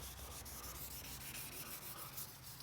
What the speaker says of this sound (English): I'm just polishing this little side piece that we're gonna put on.